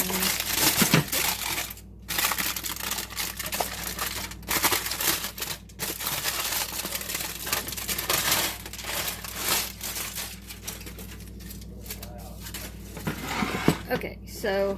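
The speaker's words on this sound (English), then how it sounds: "And then I just peel the aluminum foil off." Aluminum foil being peeled off three-ingredient microwave fudge in a pan, with repeated crinkling and crumpling rustles in bursts and a few brief pauses, close and fairly loud.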